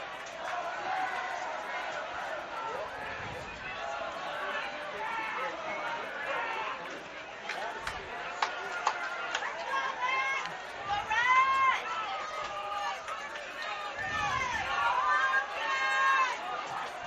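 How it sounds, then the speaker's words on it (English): Crowd at a high school varsity football game between Holliston and Old Rochester, a steady roar of cheering and yelling from many voices with shrill shouts rising near the end, broad and sustained. "So the crowd cheering for the Panthers now."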